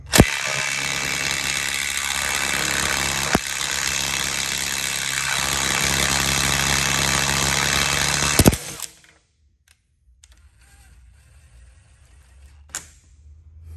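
A Mac Tools 1/4 inch cordless impact wrench hammers steadily on a hot bolt, a loud continuous rattling buzz for about eight seconds, then cuts off abruptly, leaving near silence with a couple of faint clicks.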